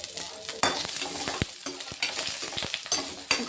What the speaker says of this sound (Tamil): வெங்காயம் ஓரளவுக்கு கலர் மாறுற வரைக்கும் நல்லா வணக்கி விட்டுர்லாங்க